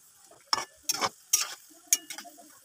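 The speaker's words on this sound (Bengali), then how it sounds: "এভাবে একটু নাড়াচাড়া করে ভেজে নিলেই এই তালের ফ্লুরিগুলো রেডি হয়ে যাবে" Palm fruit fritters fry in hot oil while being stirred, with four sharp, crackling scrape-and-sizzle bursts at an uneven pace over a low background of frying, close and clear, with no talking.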